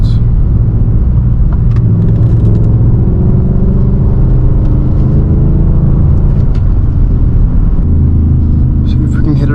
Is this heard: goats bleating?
no